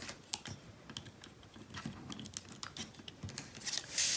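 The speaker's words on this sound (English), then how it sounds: "So now we're going to go ahead and remove the backing from the tape." Adhesive tape backing being peeled off, helped along with a pocket tool, for a Christmas suitcase gift card holder craft: a quick series of close, soft crackling ticks and rips, ending in a brief louder rustle.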